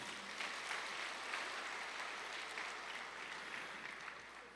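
A church congregation applauds during a sermon, a soft, steady wash of clapping that holds evenly throughout and tapers slightly at the end.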